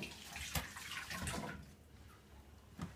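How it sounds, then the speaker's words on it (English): Tap water runs while hands are washed during Christmas biscuit baking at home, a soft, steady splashing with a couple of brief louder splashes, fairly faint and close. "Wash our hands."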